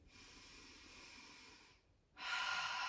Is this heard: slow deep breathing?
yes